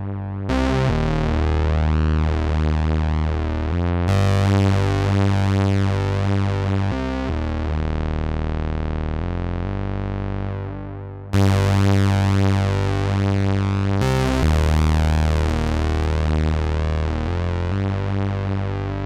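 Softube Model 82 software synthesizer with a detuned second oscillator, playing loud, bright, buzzy sustained notes in a few long phrases with a thick, wavering chorus-like edge; no talking.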